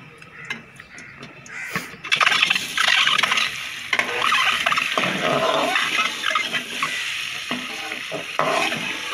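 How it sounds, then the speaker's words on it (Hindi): Eggs fry in hot ghee in a kadhai wok, with a steady loud sizzle and crackle and intermittent stirring and scraping that run continuously after a brief quieter start. "जब ये गर्म हो जाए तो इसमें अंडे डाल के इसको हल्का सा फ्राई कर लेना है।"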